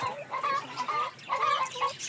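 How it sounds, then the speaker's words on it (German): Chickens clucking in an orchard within a Solingen-dialect comedy stage play, bursts of squawking and cackling in two clusters, fairly close and lively, with no talk over it; the flapping is not clearly distinct. "Die Hühner, die flattern wie verrückt im Bungert."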